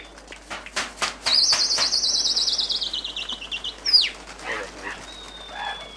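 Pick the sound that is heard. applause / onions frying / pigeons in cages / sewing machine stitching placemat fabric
pigeons in cages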